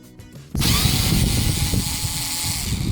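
A power tool drills out Torx screws from interior pillar trim on a Renault Megane 2, starting abruptly after a brief quiet moment and then running as a loud, steady whirring grind through the rest.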